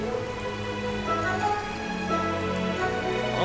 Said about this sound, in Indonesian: Oh, hujan sob.